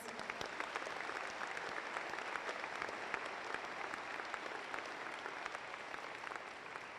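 Sustained audience applause at a college honors convocation, a steady dense wash of many hands clapping throughout, moderately distant and even in level, with no talk over it.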